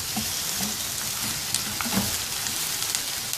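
Two large chopped onions frying in hot oil for dhaba-style egg bhurji give a steady, close, even sizzle with faint stirring scrapes throughout.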